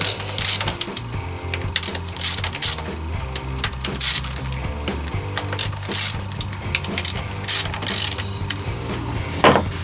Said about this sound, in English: I'm going to have to remove all those bolts securing the valve cover